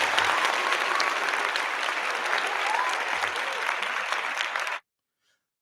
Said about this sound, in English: definitely want to give them a round of applause also